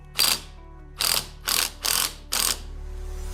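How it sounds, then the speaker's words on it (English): Five separate ratcheting bursts in a steady rhythm as a bolt is turned through the threads of a rusty differential flange on a BMW E36, close and clear with no talking. "what I'm gonna do is just grab a bolt and go through them while it's on the ground"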